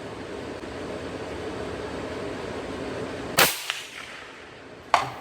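A rifle shot fired while zeroing a scope cracks out sharply once against steady outdoor background noise, followed by a softer echo and then a second, fainter shot near the end.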